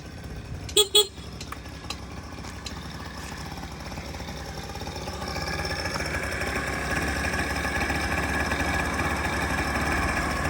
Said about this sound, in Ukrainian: гарно працює двигун, без ніяких питань